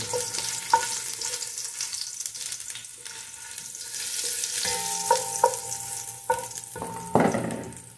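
Ginger frying in a pan for salmon sinigang, a close crackling sizzle with scattered clinks and scrapes of a utensil stirring against the metal.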